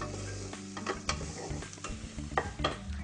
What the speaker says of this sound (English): So I'm going to put in my garlic for the last minute of cooking. So we'll just give that a stir as well.